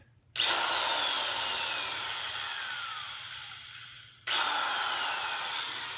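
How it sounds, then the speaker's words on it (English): A Porter Cable electric drill spins a slightly wobbly wooden dowel, a loud sustained whine that runs about four seconds, cuts out briefly, then starts up again, with no talking. "So I went and got my Porter Cable electric drill, and this thing has enough power to push anything through"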